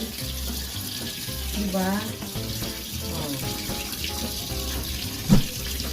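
A water tap runs steadily while laundry is washed by hand in the Philippines, a close, continuous splashing stream with brief sloshing, and a person talking over it.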